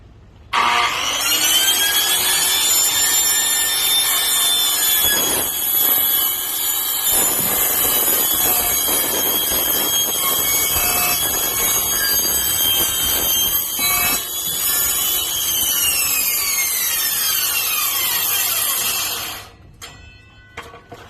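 A ripping blade saw cuts through a metal sheet in one long, loud, continuous run with a shrill, whining tone that holds steady, then winds down and stops near the end.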